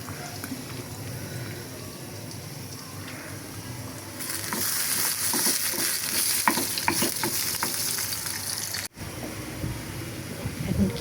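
Beef meat cooking in a pan gives a steady soft sizzle, growing louder and brighter partway through with small crackles, then dropping briefly before resuming.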